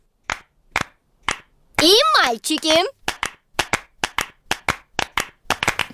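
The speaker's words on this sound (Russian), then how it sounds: "Мадам Газель превратила хлопанье в музыку." Cartoon children clapping their hands in rhythm during a music lesson: a steady series of sharp, evenly spaced claps, with a short stretch of spoken voice cutting in partway through.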